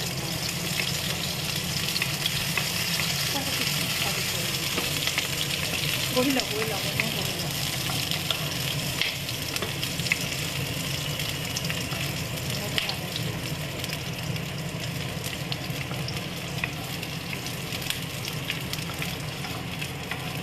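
Onions fry with a steady sizzle and scraping stirring in a pan, continuous throughout, while a person talks over it.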